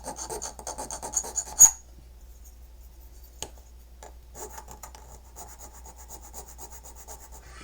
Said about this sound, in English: I need to file these down and get them ready for the